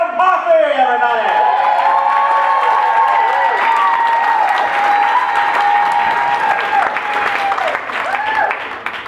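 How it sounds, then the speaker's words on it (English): Loud, sustained applause from a comedy-club audience welcoming comedian Adam Posse at a Portland funniest-person competition, with cheers and whoops rising over the clapping throughout. "Big round of applause for Mr. Adam Posse, everybody."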